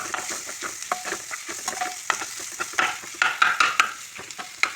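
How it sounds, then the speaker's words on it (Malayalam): Crushed coconut and garlic are stirred as they fry in a pan, giving a continuous close sizzle broken by frequent scraping strokes, with no voices. "അതിൻ്റെ ഒരു പച്ചമണമൊക്കെ പോണ വരെ നല്ലോണം ഒന്ന് ഇളക്കി കൊടുക്കുക"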